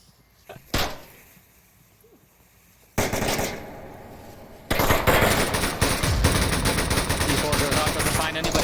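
Gunfire in the VR shooter Onward, heard first as a single sharp shot, then a sudden dense burst that gives way to sustained rapid automatic fire, loud and continuous to the end.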